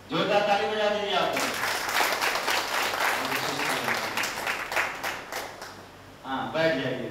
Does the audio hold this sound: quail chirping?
no